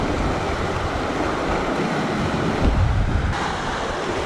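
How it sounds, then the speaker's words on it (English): River water splashing over a stone clapper bridge on Dartmoor, a constant loud rushing wash mixed with gusty wind buffeting the microphone, close and unbroken throughout. "The water is splashing over it."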